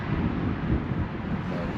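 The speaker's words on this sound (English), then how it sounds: "The wind is blowing real good." Strong wind blows steadily against the microphone outdoors beside an old 1974 GMC Grand Sierra dually truck, making a loud, continuous rumbling buffet with no break.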